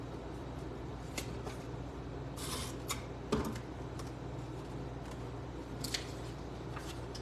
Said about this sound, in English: I'm going to cut like that. And I'm going to tear it towards me so that I get that white edge on the top.